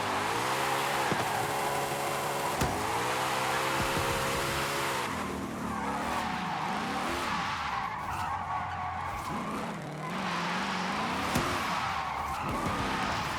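A car in Forza Horizon 5 skids and slides during a Lunar New Year festival event in the winter dry season, with a loud continuous engine drone, shifting revs and long tire squeals throughout.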